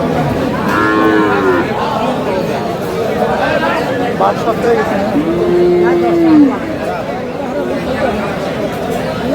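Several drawn-out calf moos rise and fall over a busy background of chattering voices at a cattle market in Dinajpur, one long bellow standing out in the middle.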